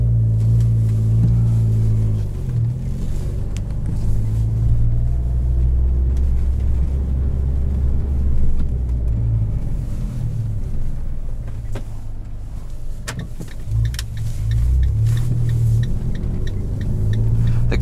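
Steady, loud in-cabin drone of a 2013 Fiat 500 Abarth with a 160-horsepower 4-cylinder and 5-speed manual, low engine rumble and road noise rising and dipping with throttle and shifts, no talking.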